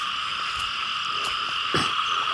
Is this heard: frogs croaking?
yes